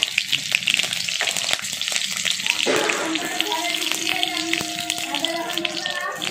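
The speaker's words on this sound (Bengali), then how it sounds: "এবার 2টো তেজপাতা, 2টো কাঁচা লঙ্কা, সাদা জিরে, 2টো লবঙ্গ আর গোলমরিচটা ফোড়নে দিয়ে দিলাম।" Bay leaves, green chillies, cumin, cloves and black pepper sizzle in hot mustard oil, a steady hissing fry with sharp crackles and pops that grows busier partway through, close and alone.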